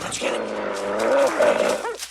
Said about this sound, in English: So a couple of the dogs' names of Orville here are Duke and Thunder